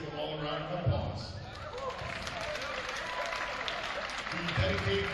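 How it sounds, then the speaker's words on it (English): Applause and cheering from a high school boys' varsity volleyball crowd honoring the teams and families, a dense continuous roar of clapping under a speaker's amplified voice in a gym. "Let's give them all a round of applause."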